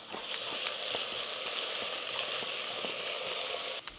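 Onions sauté in a pot for kabocha pumpkin soup, giving a steady close sizzle with occasional stirring scrapes, and no speech.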